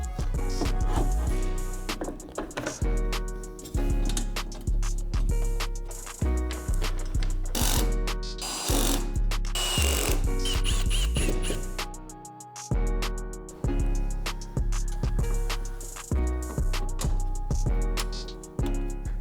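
A hand ratchet tightens bolts on a sport bar mount for LED work lights, with loud, close bursts of rapid clicking repeated in short strokes and brief pauses between them.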